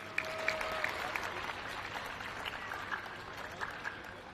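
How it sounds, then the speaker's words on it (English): Crowd applause at a motorsport academy awards ceremony, a moderate, somewhat distant patter of clapping with a few sharper claps and a faint whistle-like tone early on, sustained throughout. "Ladies and gentlemen, one final round of applause for Mini"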